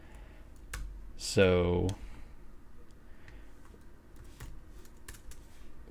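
Sparse keystrokes on a computer keyboard while typing into a search bar: a handful of separate, quiet clicks spread out over several seconds, with a single short spoken word near the start.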